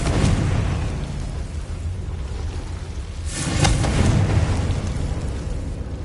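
A Confringo fire spell explodes in Hogwarts Legacy, a deep rumbling boom that swells midway through over a continuous low roar.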